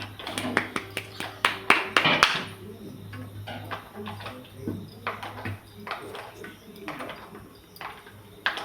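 A short burst of hand clapping up close, then sparse taps and a few scattered claps while voices talk quietly in the room.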